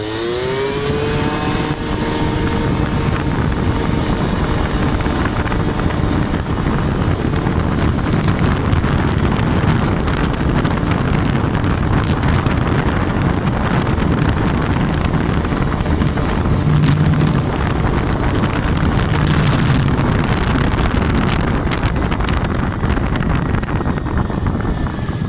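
An Aprilia SR 50 motard scooter rides continuously for about 25 seconds, its small two-stroke engine droning loud and steady under heavy wind buffeting on the microphone, with a rising pitch at the start.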